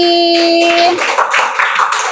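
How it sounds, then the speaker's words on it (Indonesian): A classroom audience gives a short round of applause for a student group after a presentation, a dense patter of hand claps rising after a brief tonal sound. "Kita beri tepuk tangan untuk kelompok kapal api."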